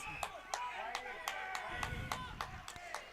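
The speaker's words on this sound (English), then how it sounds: "You can hear in the background, that's the Palmerston coach, Mark Tyrrell, applauding his player that's come off the ground." The Palmerston coach claps from the sidelines at an outdoor NTFL Australian rules football match, about eight sharp, evenly spaced claps heard a little distant, with crowd and ground noise underneath.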